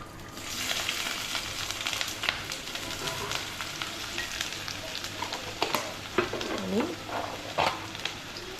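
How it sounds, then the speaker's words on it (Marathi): Finely chopped onion with a little coconut sizzles in hot oil in a heated kadhai for tempering, with steady frying crackle and intermittent stirring scrapes close by. "बारीक चिरलेला कांदा फोडणीला"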